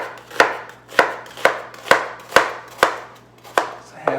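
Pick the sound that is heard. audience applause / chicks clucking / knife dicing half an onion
knife dicing half an onion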